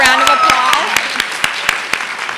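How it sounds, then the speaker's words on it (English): An audience at a nursing pinning ceremony claps in a steady burst of applause with sharp hand claps standing out, while a speaker talks over the clapping. "Give her another round of applause."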